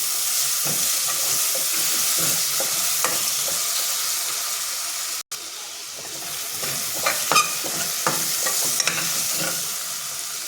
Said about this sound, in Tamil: அது நல்லா மசிய வதங்கணும்